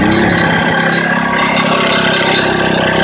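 A small lawn mower engine driving a 12-volt generator runs steadily with the choke off, a loud close rattling drone with a fast uneven pulse throughout.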